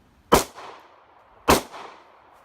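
Two sharp pistol shots fired about a second apart during shooting practice, each a loud, close crack with a short decaying tail, no voices.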